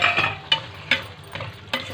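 A spoon stirs potato into frying masala in a pan. Soft scraping strokes come at a steady rhythm over a gentle sizzle, close by.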